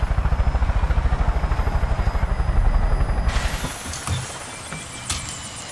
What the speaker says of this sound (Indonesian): Oh, itu ada helikopter lagi